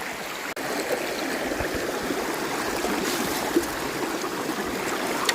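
Water rushes hard and steadily through a gold sluice box beside a burn, a loud continuous close-up flow with faint splashes and no talking.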